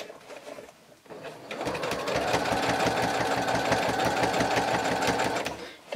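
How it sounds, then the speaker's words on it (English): A sewing machine runs a line of top stitching close to the edge of leopard-print fabric on a bag, a fast, steady mechanical whirring rhythm starting after a brief pause and continuing loudly to the end. "so I'll give it about a millimeter to 2 millimeters away from the edge of the leopard fabric, just so that you get a nice top stitch"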